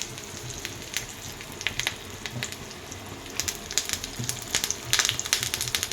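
Curry leaves sizzle in oil that has been heated too hot for a tadka. The crackling is loud and close, with dense sharp pops bursting out irregularly over a steady frying hiss. No one speaks.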